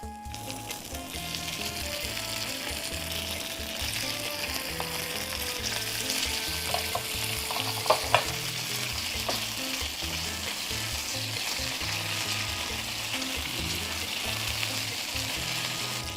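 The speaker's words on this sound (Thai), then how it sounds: "อันนี้ใช้เวลาจีประมาณฝั่งละ 1 นาทีนะครับ ให้ได้ออกมาให้ได้สีเหลืองทองนะครับ" Wontons deep-frying in plenty of hot oil, a steady loud bubbling sizzle running throughout with a few brief clicks near the middle, no voices.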